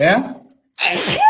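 A woman sneezes once, loud and close, amid a sneezing fit during a live stream, followed by a brief silence and then a voice speaking.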